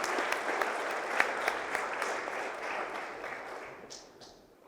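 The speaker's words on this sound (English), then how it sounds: "Please hold your applause until the end" Steady applause from a school award assembly audience congratulating students, a full room of clapping with a few sharper claps standing out, tapering off toward the end.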